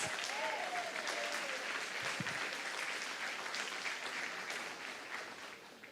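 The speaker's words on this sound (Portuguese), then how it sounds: "Você pode aplaudir o Senhor, irmãos." Church congregation applauding at a Sunday evening worship service, steady dense clapping filling the room for the full stretch and easing slightly toward the end, with no talk over it.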